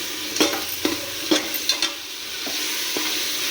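Onions fry in oil in a pan, a continuous sizzle broken by several sharp spatula scrapes and knocks in a loose rhythm during the first half, then fewer strokes.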